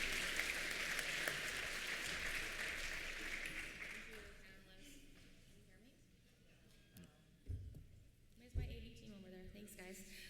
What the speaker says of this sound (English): I'm wondering if you could all give the panelists a round of applause for this